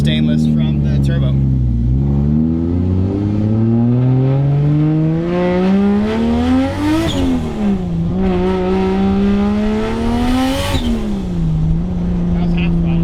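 A 600 hp 1JZ-swapped Lexus SC300 with a straight-pipe exhaust, custom 3-inch stainless from the turbo, revs loudly and close, its engine note climbing and falling in repeated surges, with people talking over it.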